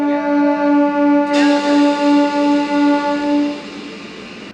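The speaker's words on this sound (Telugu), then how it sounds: "హిందూపురం నుంచి మన ట్రైన్ బయలుదేరింది" A MEMU train departing Hindupur station sounds a long, steady, loud horn blast for several seconds, which then cuts off, leaving a quieter rolling rumble.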